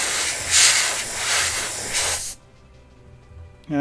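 A dual action airbrush sprays paint in loud hissing bursts, pulsing several times before cutting off into near silence, then a brief hiss returns at the very end.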